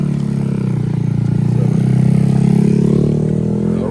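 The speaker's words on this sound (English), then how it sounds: "this guy's riding his new little bike" A small, new motorbike rides past on a residential street, its steady buzzing engine loud and close, swelling slightly as it passes and then holding a droning, rattly tone without any speech.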